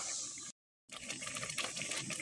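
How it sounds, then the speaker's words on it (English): Apple cider vinegar pours into homemade marinara sauce in two short bursts separated by a brief silence, a soft close liquid splashing and trickling. "I'm going to pour a little bit of apple cider vinegar"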